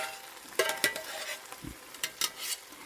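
Gravy mix scraped into a hot pan with sausage, a scattering of sharp utensil scrapes and clinks against the pan over a low sizzle, close and irregular.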